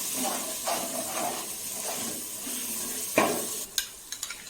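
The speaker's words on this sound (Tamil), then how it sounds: "இது எல்லாத்தையும் நல்லா கலந்து விட்டுக்கணும்" Spices and masala frying in a pan while being stirred, a soft sizzle and hiss with scraping strokes and a few sharp clinks of the spoon against the pan near the end.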